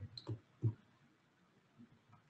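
Two soft mouse clicks close together, quiet and isolated, pressing an OK button in Autodesk Inventor software, followed by near silence.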